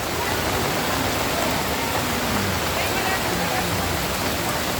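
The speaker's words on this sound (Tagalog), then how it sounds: "Kasi pag ganito kalakas na adventure yung ulan, makakatakot talaga sa ilog." Heavy rain pouring beside a river at Estrella Falls in Narra, Palawan: a dense, constant hiss and roar of falling water fills every moment without pause.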